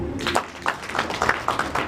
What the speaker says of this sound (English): And we clap for the choir.